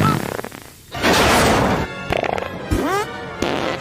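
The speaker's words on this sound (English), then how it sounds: "Fart in your pillow." Cartoon fart sound effect from the Rocket Monkeys animated series, a loud blurting burst mixed with whacks, squeaky sliding tones and other zany effects over a few seconds.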